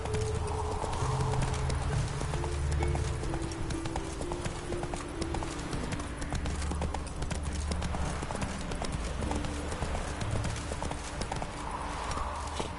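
Horse hooves clip-clop in a steady trotting rhythm while riding in The Witcher 3 video game, with occasional neighs and faint birds over background music.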